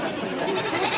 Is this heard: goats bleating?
yes